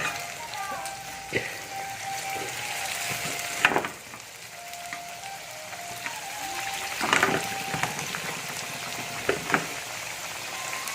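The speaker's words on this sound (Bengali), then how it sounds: "তো আমি এখানে পিঠাগুলো ছেড়ে দিচ্ছি এক পিস করে" Flour pitha cakes are dropped one at a time into hot oil for deep-frying, giving a steady crackling bubble with a few louder sizzling bursts and clinks, close by and with no talk.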